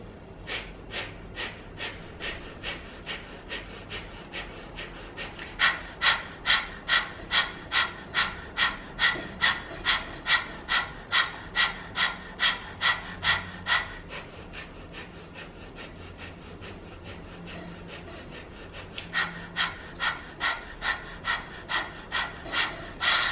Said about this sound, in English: take a deep clearing breath